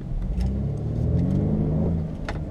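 A 2015 BMW 328xi with a four-cylinder engine accelerates hard, its engine note rising steadily over about two and a half seconds, loud and close in a winter setting.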